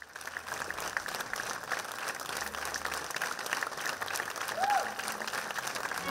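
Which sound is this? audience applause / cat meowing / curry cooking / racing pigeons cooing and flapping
audience applause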